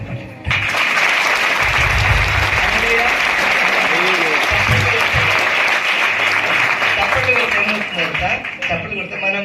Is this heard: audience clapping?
yes